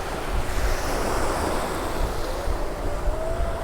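Ocean surf washing steadily onto Jomtien Beach in Thailand, a continuous broad roar of waves mixed with wind buffeting the microphone, loud and close, with no voices.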